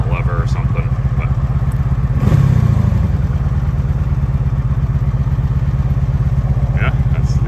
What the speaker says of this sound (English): that's the Honda Magna 1984 V4 engine, 700cc